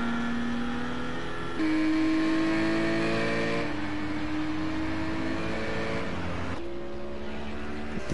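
A GT4 race car laps the Catalunya circuit in a racing video game, the engine note holding steady and shifting gears with rising and falling pitch, loud and close.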